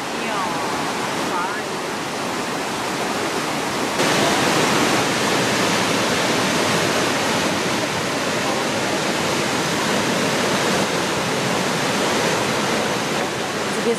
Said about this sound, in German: Wir sind jetzt fast ganz oben mit einer der oberen Wasserfälle, die jetzt hier runterfallen.